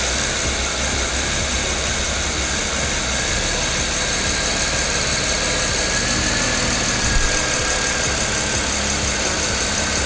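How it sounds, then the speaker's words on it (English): A BMW engine idles with its oxygen sensor disconnected, running in open loop: a steady, even mechanical hum at close range that holds constant throughout, with no one talking. "Anything that would force an open loop situation will cause the car to run smooth, and I'll demonstrate that right now."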